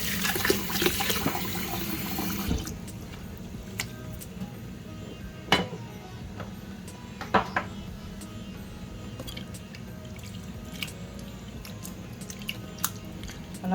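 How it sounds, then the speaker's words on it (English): Softened onions rinsed under cold running water, a short burst of tap flow for about two seconds followed by wet squelching and handling sounds with occasional small knocks, close and fairly quiet. "And I'm going to wash them out with cold water."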